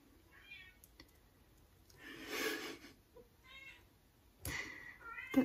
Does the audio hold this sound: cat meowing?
yes